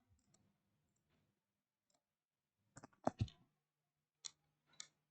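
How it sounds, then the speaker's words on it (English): Sharp, faint mouse clicks at a computer, a quick double-click pair in the middle followed by a couple of isolated clicks, in an otherwise quiet room. "Just double click on it."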